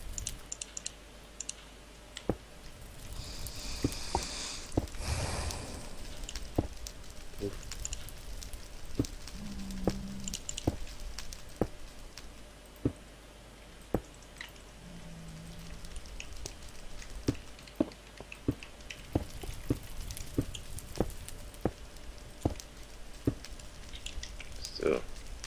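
Rain falling in the German-language Minecraft video game, a steady soft hiss of drops with scattered sharp clicks throughout, heard alongside occasional game sounds.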